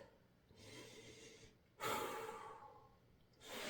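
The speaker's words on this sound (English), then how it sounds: "Take a couple of deep breaths." Deep, heavy breaths from a person lying relaxed after a core workout for golf, a long inhale then a louder exhale, close and fairly quiet, with no talking.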